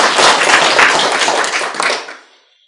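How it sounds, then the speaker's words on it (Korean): Applause and clapping from an audience at a Buddhist sermon on the Diamond Sutra, a dense burst of many hands that holds steady and then fades out near the end. "알았으면 박수라도 쳐봐."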